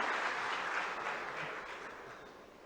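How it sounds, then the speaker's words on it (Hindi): A crowd claps steadily at an outdoor public festival honoring collectors and village heads in Bhopal. The applause is dense and fairly faint and fades slowly, with no voices over it. "एक बार ताली बजा दो पूरे अपने सारे भाई बहनों के लिए"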